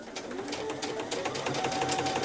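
Sewing machine running a long gathering stitch along the top of a child's dress fabric, a steady close whir and rapid needle chatter with no speech.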